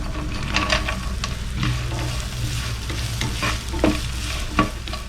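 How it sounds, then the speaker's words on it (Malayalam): Coconut pieces frying in hot ghee in a pan for Kerala unniyappam: a steady, close sizzle with intermittent stirring clatters and crackles. "ഇതിലേക്ക് തേങ്ങാക്കൊത്ത് ഇട്ട് കൊടുക്കുകയാണ്. നല്ല ബ്രൗൺ കളർ ആവുന്ന വരെ നമുക്കൊന്ന് വറുത്തെടുക്കണം."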